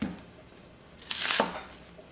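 A Sakai Takayuki Damascus gyuto knife slicing through an onion, one crisp close cutting stroke rising to a brief crunchy rasp before falling quiet.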